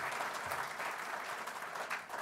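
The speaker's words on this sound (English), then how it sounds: "Let's give her another round of applause for her great leadership." Audience applauding New Mexico's new governor at a political address: a steady, dense wash of many hands clapping, moderately distant and fairly quiet, sustained without a break and with no voices over it.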